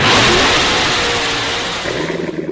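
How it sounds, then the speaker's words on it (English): A Chevrolet Corvette sports car engine revs loudly and close, a dense roaring burst that eases slightly before settling toward a burbling idle. "You hear that? That's the sound of America's only sports car."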